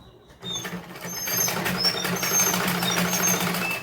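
A sewing machine stitches fabric for a salwar with a steady, close mechanical whir and fast running pulses that start suddenly and carry on evenly.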